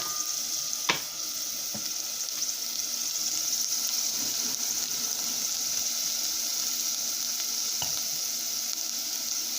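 Food sizzles and fries steadily in a pan with a constant hissing crackle, close and alone, broken by a few faint clicks and taps of utensils.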